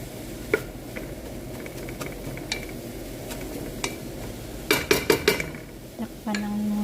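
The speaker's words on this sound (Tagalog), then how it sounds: "Haluin lang. Hanggang sa maigisa natin yung bawang at sibuyas." Garlic and onion sautéing in a pan for moussaka give a low, steady sizzle, broken by several sharp clinks of a utensil scraping and tapping the pan near the end.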